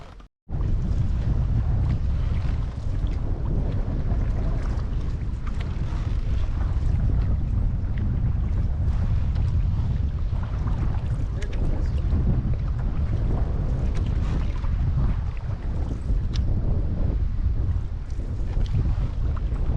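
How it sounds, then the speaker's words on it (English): Strong wind buffets the microphone on a canoe out on the water, a loud continuous low roar with gusty rumble throughout and no talking. "Now we got the wind a bit pushing us, eh?"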